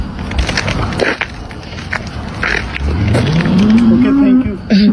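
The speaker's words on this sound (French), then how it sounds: "c'est chelou de voir des vaches comme ça" Cows mooing: a long, low moo that rises in pitch and rings out loudly over rough background noise near the end, followed by a brief second call.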